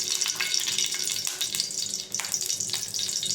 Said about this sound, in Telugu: ఆయిల్ హీట్ ఎక్కాక ఎండుమిర్చి వేసుకుందాం.